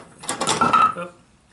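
A metal pin drops into a welding dolly and latches in place, making a single short burst of clanks and rattles that lasts about a second before quieting.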